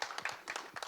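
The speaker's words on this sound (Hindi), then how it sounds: "मैं चाहता हूँ एक बार ताली डेफिनेटली" Audience clapping at a Hindi film trailer launch event, a short, faint patter of scattered hand claps.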